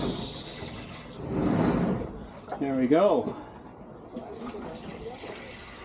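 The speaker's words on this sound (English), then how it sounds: "We'll make sure they have lots of water." Water poured over newly planted pepper and zucchini seedlings in a garden, a short soft splashing rush lasting about a second, followed by a brief spoken voice over faint background noise.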